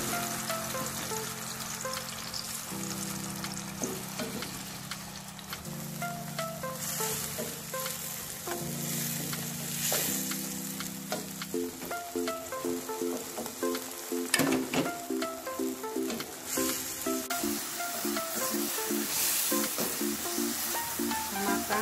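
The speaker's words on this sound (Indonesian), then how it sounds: "Setelah itu kita tumis bumbu yang sudah dihaluskan" Ground spice paste sautéing in hot oil gives a dense, steady sizzle and crackle, with occasional stirring scrapes and a few sharper spatters toward the middle.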